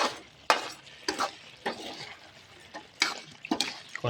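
Crisp fried catfish is stirred in a spicy herb stir-fry pan, making irregular scraping and tossing bursts over a soft sizzle, close by with no talking.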